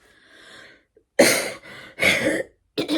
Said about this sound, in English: I'm so sorry, I'm coughing.